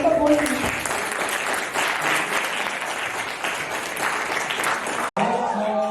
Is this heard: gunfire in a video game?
no